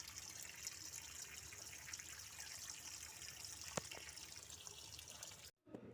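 Fish being washed by hand in water, a steady close trickle and splash of water with small drips, continuous for several seconds before a brief cut to silence near the end.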